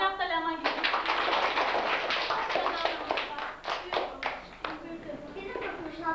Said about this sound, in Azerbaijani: Alqışlayaq da Ləman gibi.